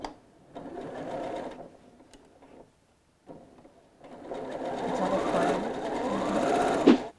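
Sewing machine stitching a quarter inch seam for a decorative pillow, a short whirring run, a pause, then a longer steady hum that rises before stopping with a click, close up.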